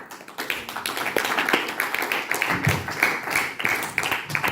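A church congregation claps steadily and cheers in praise, a dense, continuous wash of rhythmic clapping and raised voices filling the room.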